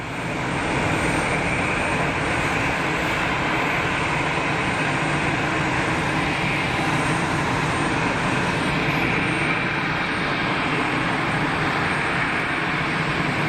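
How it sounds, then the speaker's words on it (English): An Aer Lingus airliner taxis for departure at Geneva Airport, its engines a steady, broad rumble with a high whine layered on top. The sound holds level and loud throughout with no voices. "Aer Lingus bus that came in earlier on is on taxi for departure."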